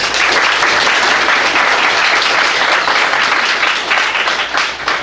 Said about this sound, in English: I just ask you to hold your applause or reactions of any kind.